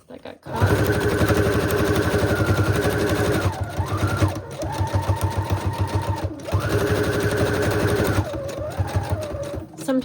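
Up close, a sewing machine stitches thread through a junk journal cover in fast, rattling runs of several seconds each, briefly pausing and slowing between bursts.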